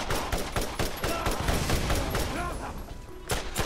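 Rapid bursts of gunfire in the Borderlands video game, a dense rattling fusillade of close shots lasting a few seconds over faint game ambience.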